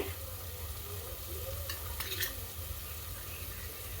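Masala frying in a pan for chana rice gives a low continuous sizzle with a low hum underneath and a couple of brief stirring scrapes near the middle, quiet and close with no talking.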